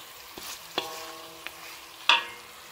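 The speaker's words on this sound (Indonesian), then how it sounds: "Okey, saya akan gaulkan dia sekejap." Fish curry (gulai ikan siakap) with sea bass being stirred in a sizzling pan, with a few scattered utensil scrapes and taps and one sharper clink near the end, close by with a soft frying hiss underneath.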